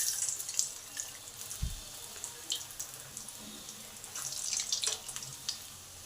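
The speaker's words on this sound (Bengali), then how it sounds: "তেল আমার উপযুক্ত গরম হয়ে গেছে, এবারে চপগুলোকে আস্তে করে ছেড়ে দেবো।" Vegetable chops are eased into hot oil and fry with a faint, steady sizzle broken by scattered crackles and small pops, close by and fairly quiet.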